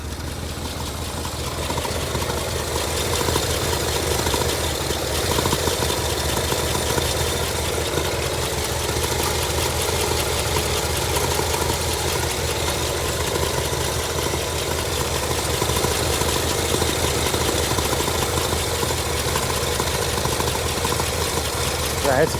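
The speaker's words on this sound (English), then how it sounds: "it's idling on its own" An old International pickup truck engine idles continuously with a low, even rumble and faint rattle, unchanging throughout and with no voices.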